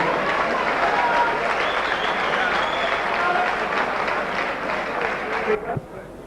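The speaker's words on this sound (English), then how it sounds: "give Rachel Purdy a big round of applause" A crowd gives sustained applause after a trophy presentation to a player, Rachel Purdy. The dense clapping stays loud and even, then thins out near the end.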